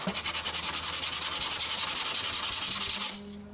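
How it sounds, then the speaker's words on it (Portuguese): Sandpaper rubbed by hand across a wooden frame for a 1.30 m by 85 cm dressing-room mirror, about twenty quick, even back-and-forth strokes in a steady close rhythm before stopping abruptly. "À medida que você vai lixando, vai passando o dedo aqui e vai sentindo se já tá chegando no nível"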